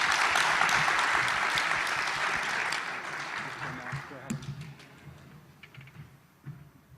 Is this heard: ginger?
no